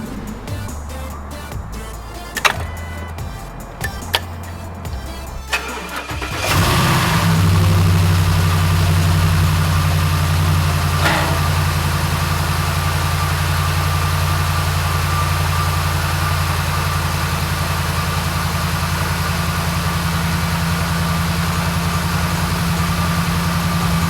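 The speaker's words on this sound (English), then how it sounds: "So I'm gonna have Jessica start the engine and let it run for 10 seconds" Some clattering and a few clicks, then a Ford Raptor engine cranks and catches, settling into a steady, loud idle with a low rumbling hum.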